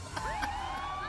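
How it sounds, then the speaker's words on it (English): An ambulance siren wails briefly, its rising and falling tone sweeping over a steady engine and traffic rumble, fairly loud and close. "This is an ambulance!"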